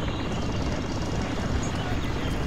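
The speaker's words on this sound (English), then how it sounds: "why is the helicopter still?" A helicopter in a military video game gives a steady, loud rotor and engine roar that stays constant and close throughout, with no clear speech over it.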